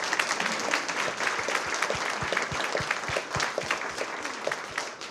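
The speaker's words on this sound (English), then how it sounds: "Round of applause." Members at a monthly membership meeting applaud new board members, a room full of steady clapping with a few distinct, sharper claps standing out near the front.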